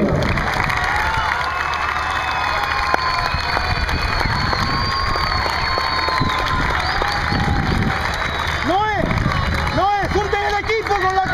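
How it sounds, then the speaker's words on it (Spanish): A crowd cheers and applauds the champion at a hockey award ceremony in Argentina, with shouts and clapping, under an announcer's amplified voice. "Un fuerte aplauso a la campeona"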